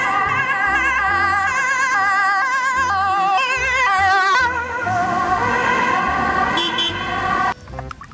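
A toy ambulance blares a loud, continuous electronic siren with a warbling, wailing pitch that shifts pattern partway through, then abruptly cuts near the end.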